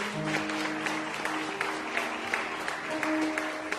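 A congregation claps during an evening church service, a moderately loud wash of applause with crisp individual claps standing out over sustained tones, likely from keyboard accompaniment.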